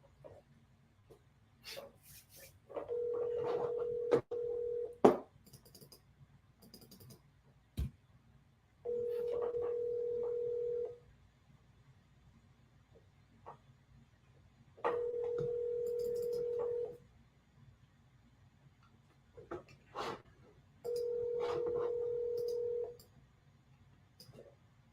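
Touch-tone telephone keypad dialing, with four separate bursts of steady dual tones, each lasting about two seconds and spaced a few seconds apart, over a low background hum and scattered small clicks and handling noises.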